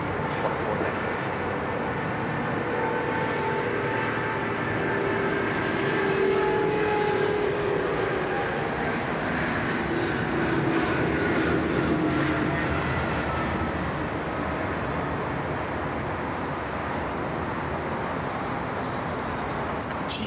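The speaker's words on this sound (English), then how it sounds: "Jeez, that's a long takeoff roll, that one" An airliner on its takeoff roll at Sydney Airport, a continuous broad roar that stays steady and loud for the whole stretch, heard from a distance with no voices.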